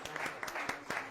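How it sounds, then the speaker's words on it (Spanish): Brief, fairly faint clapping at a creative-thinking conference in Mexico, a scattering of individual claps for the speaker Claudia, with a loose uneven rhythm. "les pido un fuerte aplauso a Claudia"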